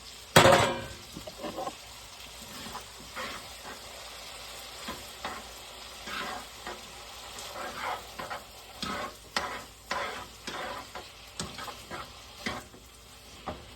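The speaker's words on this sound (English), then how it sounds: "We're gonna go throw on our noodles." Noodles sizzle and fry in butter in a pan, a quiet crackle broken by frequent stirring clatters and scrapes, with one sharp louder hit near the start.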